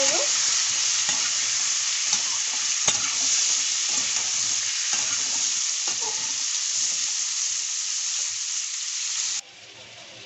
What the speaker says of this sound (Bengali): পটলগুলো আমি ফ্রাই করে নেব।